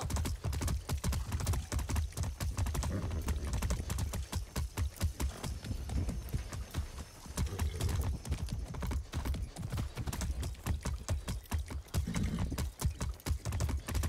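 Galloping horse hoofbeats in the video game Far Cry 6, a fast and steady run of close clip-clops that continues almost without pause, with a faint hum under it and no talk.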